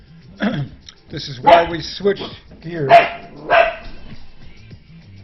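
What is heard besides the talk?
dog barking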